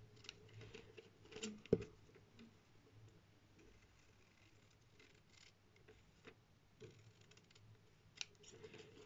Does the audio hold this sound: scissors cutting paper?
yes